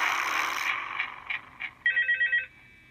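A phone in Five Nights at Freddy's 2 rings in short electronic bursts, a quick series of bright repeated trills after some fading music and soft thumps, clear and close with no voices.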